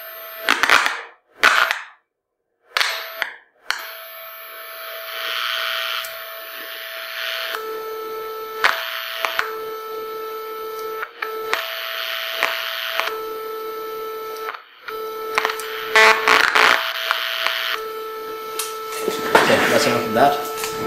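Electronic test tones from a capacitor filter circuit, steady sustained notes that shift pitch several times, with brief clicks and cuts between segments and a noisier burst near the end.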